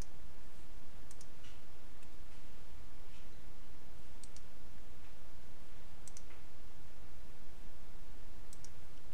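Computer keyboard keys clicking during a Happy Wheels game, short bursts of sharp taps scattered over a constant loud hiss of background noise.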